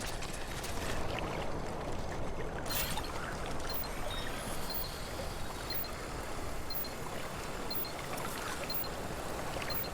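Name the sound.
sea water sounds at the edge in video game Death Stranding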